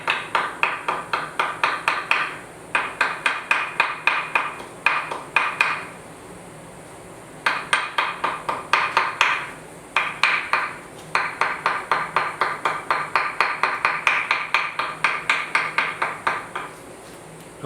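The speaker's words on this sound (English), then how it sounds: "be hammering on it, just take a little taps." A small ball peen hammer taps steadily in quick rhythmic bursts of light metallic strikes, with short pauses between runs, close and clear with no talking, while an engine is being painted.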